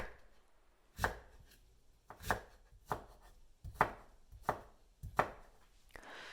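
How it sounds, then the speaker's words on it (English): A knife chops turnip into strips on a board, six or so crisp, separate strikes spaced about a second apart, close and clear with quiet gaps between. "Here I'm cutting one of the turnip in fat fry size and the other one in thin strips"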